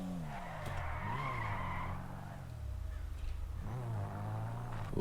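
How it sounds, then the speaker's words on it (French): Tires skid continuously as a car in a video game slides sideways through a drift, the engine tone sweeping up and down under the squeal with no voices over it. "doucement sous le dérapage là."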